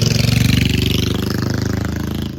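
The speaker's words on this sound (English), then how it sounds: "somebody needs a muffler" A loud, unmuffled engine runs close by with a rough, rapid pulsing throb that holds steady and strong throughout.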